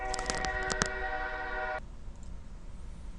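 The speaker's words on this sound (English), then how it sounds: "now that the train has passed," A passing train blares a loud horn, with clattering wheels on the rails underneath. The horn cuts off sharply and leaves a fading rumble of the railcars.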